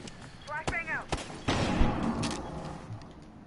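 A flashbang grenade goes off in a Rainbow Six Siege esports match as a couple of sharp, punchy bangs, partly under excited commentary and ongoing game noise.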